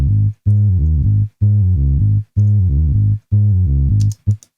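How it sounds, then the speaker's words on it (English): A warm, simple Omnisphere synth bass preset plays five evenly spaced, round sustained notes with short gaps between them, clean and close, followed by a few faint clicks at the end. "This is the sound of the bass, the warm, simple bass preset."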